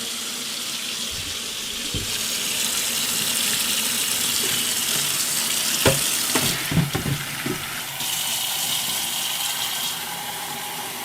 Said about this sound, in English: We're going to fill the water up to the line